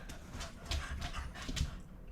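An excited dog whimpers and whines in short, repeated bursts, mixed with panting and shuffling, moderately loud and close.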